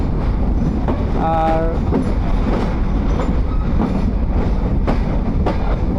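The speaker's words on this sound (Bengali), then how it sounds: "সামনে দেখতে পাচ্ছেন যে আমাদের লোকাল ট্রেনটি ইতিমধ্যে দাঁড়িয়ে আছে" A local train standing at a large old railway junction station in Kushtia, Bangladesh, with a steady loud rumble, a brief squeal of metal and clanks, and someone talking over it.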